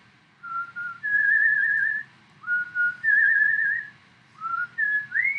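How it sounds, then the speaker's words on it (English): A person whistles a slow lullaby alone, clear and close, in long sustained notes with gentle glides between them, pausing briefly between three phrases. "I'm just whistling a lullaby"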